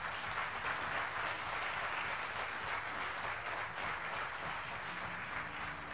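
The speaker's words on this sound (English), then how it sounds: "please put your hands together for this outstanding band of musicians here on stage tonight" Sustained, dense applause from a large audience at a live blues show, steady and loud throughout with no pauses.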